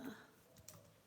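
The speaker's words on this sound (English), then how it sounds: "let me just type in the groups that I'm live" Quiet, sparse keystrokes on a computer keyboard, a few faint clicks in a hushed room with no one speaking.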